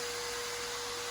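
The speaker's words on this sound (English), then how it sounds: "So here we go with the Max T sander." A Max T electric sander on scrap wood gives a steady, high-pitched motorized whir, loud and close, without pause or change.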